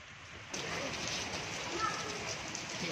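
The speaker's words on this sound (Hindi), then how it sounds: "इस वक्त शदीद बारिश का सिलसिला जो है शुरू हो चुका है" Heavy rain sets in after a brief quieter moment, becoming a dense, steady hiss of a downpour that continues evenly to the end.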